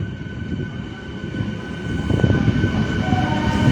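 An inaugural special train rolls into platform four at Krishnanagar City Junction, a steady low rumble of wheels and carriages that swells slightly as it draws nearer, with no voices.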